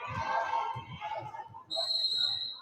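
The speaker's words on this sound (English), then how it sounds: "Whistle blowing." A referee's whistle at a high school basketball game, one sharp piercing blast that comes in partway through, over crowd noise and continuous commentary.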